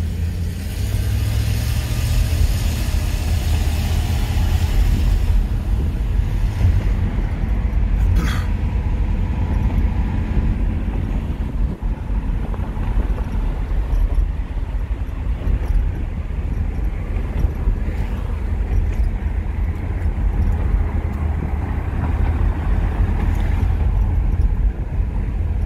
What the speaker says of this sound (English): Car is so smooth and so quiet.